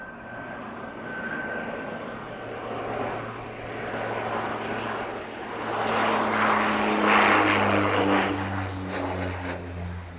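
An Antonov An-124 lands at East Midlands Airport, a deep, steady engine roar heard from a distance that swells gradually and grows louder, with layered low droning tones and a broad rushing wash.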